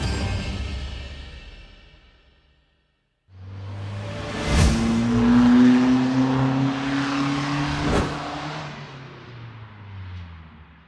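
A pre-production 2021 GMC Yukon SUV is driven past, a broad whooshing roar building after a brief silence, with a rising engine tone and two sharp surges as it passes close by.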